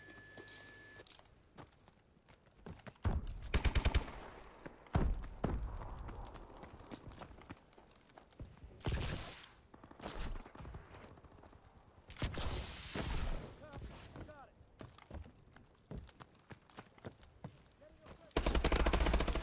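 Gunfire in Call of Duty: Advanced Warfare comes in several loud bursts and single shots scattered across a noisy multiplayer match, with footsteps between them and a player talking over the action.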